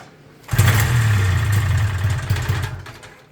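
The engine of a 1975 John Deere 600D, started with ether, catches and fires up, settling into a loud, rough, close-up running rumble that wavers as it idles.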